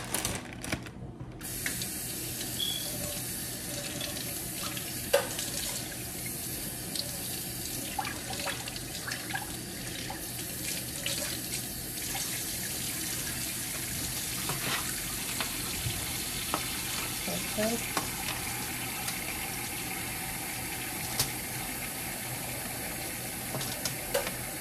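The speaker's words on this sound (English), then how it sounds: "I'm gonna wash these off." Food being rinsed under a running kitchen tap, a steady close hiss of flowing water with scattered small clatters and splashes throughout, no talking.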